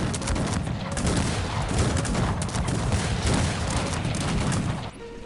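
Musket volleys from massed troops in the Cossacks 3 strategy game: dense, continuous crackling gunfire with overlapping shots and booms, loud and sustained for several seconds before cutting off abruptly.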